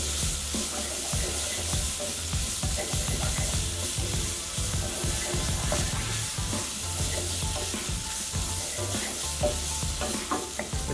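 Chillies and spices sizzle loudly in a hot pan for lentil dhal while being stirred, a steady dense frying hiss with scraping and clatter throughout.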